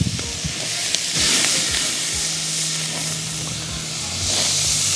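Skirt steak, just flipped, sizzles over a mesquite grill with a steady, loud hiss and scattered small pops and crackles throughout, with no talking.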